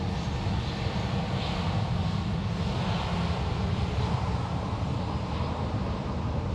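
An American Airlines airliner takes off at Sydney Airport, its engines giving a loud, steady roar that holds for several seconds with a faint wind rush and no voices.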